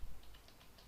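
Password being typed on a computer keyboard: about five soft, evenly spaced keystroke clicks, faint against low room hum.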